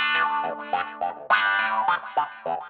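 Funky electric guitar phrases run through a Precision Mod Delay plugin with reduced feedback, short choppy notes trailed by modulated, slightly distorted echoes, clear and prominent without speech.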